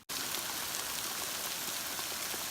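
Steady, dense hiss of rain pouring onto an alpine lake in the Sierras, an even wash with no breaks, heard from beneath a sheltering tree.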